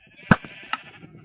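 Sheep bleating in the video game Minecraft: two short, clear bleats about half a second apart, close and alone.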